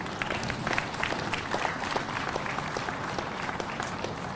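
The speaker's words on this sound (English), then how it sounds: "C.R., give a nice round of applause." A round of applause from the crowd at an outdoor press conference marking the end of a highway restoration project, with continuous clapping and individual claps popping through the steady sound throughout.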